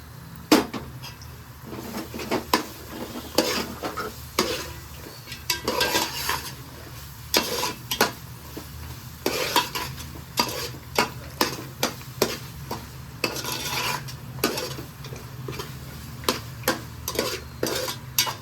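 Cooked rice is tossed and mixed into mango pulihora in a pan, a spoon scraping and clacking against the metal in many quick repeated strokes over a low background hiss.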